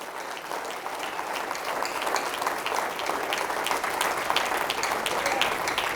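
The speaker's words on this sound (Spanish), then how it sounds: "Sí, dale palmas al Señor a ver si es cierto" A congregation at a church service applauds in sustained, dense clapping that swells slightly, loud and near, with no voices over it.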